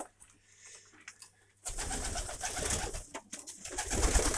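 Pigeons coo in soft, throaty bursts, faint at first and then louder and busier, with several birds calling over one another and a flutter of movement.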